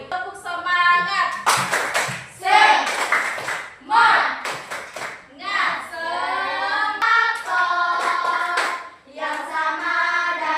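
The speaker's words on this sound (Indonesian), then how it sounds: "Tepuk semangat." A math classroom does a rhythmic spirit-clapping routine, with bursts of patterned group clapping mixed with loud chanted voices in unison, close and energetic throughout.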